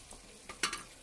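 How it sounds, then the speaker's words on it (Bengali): Fried paneer cubes tipped into a pan of sizzling spice masala for a paneer-potato curry, giving a sudden burst of hiss and clatter after a couple of small stirring scrapes, with no voices. "আমি ভাজা পনিরগুলো যেগুলো ভেজে রেখেছিলাম সেই পনিরগুলো দিয়ে দিলাম"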